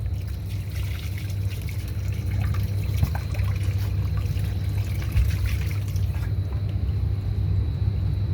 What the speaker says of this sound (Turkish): Drenaj tavasının temizliği yapıldıktan sonra e, su dökülerek testi yapılıyor.